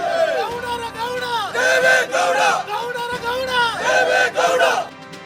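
A large crowd of party workers outside a prison chants slogans and cheers loudly, voices rising and falling in rhythmic waves of shouting.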